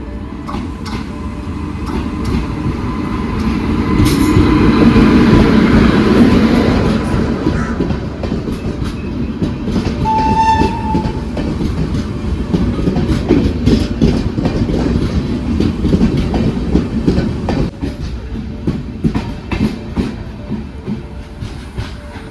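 A train at Khed railway station in Maharashtra rumbles past with steady clickety-clack from its wagons, building to a loud peak early on and then rolling on at an even level, with a brief whistle-like tone in the middle.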